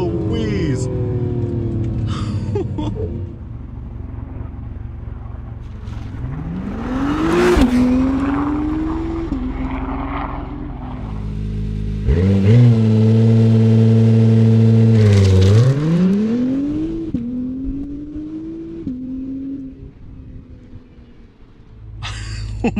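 A 2020 Acura NSX hybrid supercar launches hard from standstill, its engine holding near 2000 rpm then surging through rising, loud revs with gear shifts, heard from inside the cabin while people talk and exclaim.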